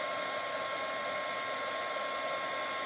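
Embossing heat tool blowing over powder on a card to melt it, a steady, close, even whooshing hum with no pauses and no talk.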